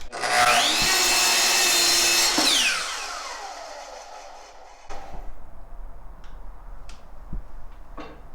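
Power saw cutting through wood during an ottoman repair, a loud sustained whine for about three seconds that winds down as the blade slows, followed by quieter workshop rustling and a few small knocks.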